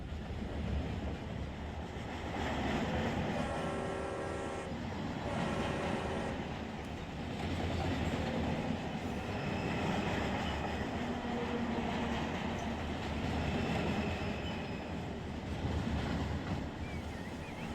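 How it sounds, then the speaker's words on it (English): A train rolls steadily through a train simulator video game, its continuous rumble and rail noise holding a loud, even level throughout with brief tonal layers near the start and no voices. "just hear our train going."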